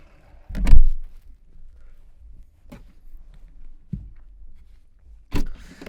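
The trunk lid of an Opel Astra J hatchback is handled and closed, with a strong near thump early on followed by a few lighter knocks and clunks against quiet.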